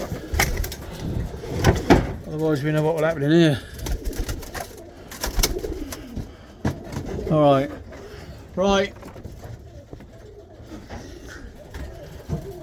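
Tippler pigeon cock birds cooing in a loft, several rolling coos up close, under someone talking and amid rustling and knocks.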